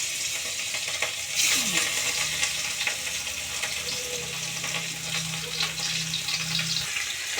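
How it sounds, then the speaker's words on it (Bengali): Fish frying in hot oil, a steady bubbling sizzle with faint clinks of utensils and a low background hum. "মাছটা ভাজা হয়ে গেল, তুলবো।"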